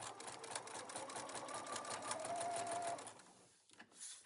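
A sewing machine runs steadily through a side seam on a pocket, a close continuous mechanical whir with rapid stitching chatter that briefly pauses and restarts near the end.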